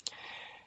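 A single quiet computer mouse click, one short sharp tick at the start followed by faint room noise, no speech.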